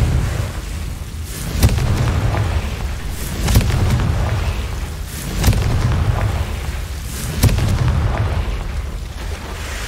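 Confringo fire-spell blasts in the Hogwarts Legacy game, four heavy booming explosions spaced roughly two seconds apart, each a sharp crack followed by a low rumbling tail over continuous battle noise.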